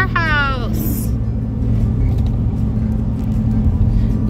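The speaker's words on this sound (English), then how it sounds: "Here comes a big truck." A big truck drives past beside a shipping container tiny home build site, a heavy, sustained low rumble lasting several seconds after a brief sweeping vocal sound at the start.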